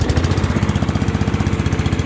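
MTD riding lawnmower engine running right after startup, a loud close rapid pulsing putter with a steady chugging rhythm.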